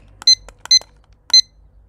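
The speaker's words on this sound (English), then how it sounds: "Pomodoro timer on the go" A Pomodoro timer gives three loud, sharp electronic beeps at irregular intervals over a quiet background.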